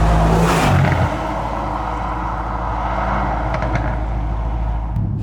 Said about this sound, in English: there's a wonderful, powerful V8 rumble that everyone can respect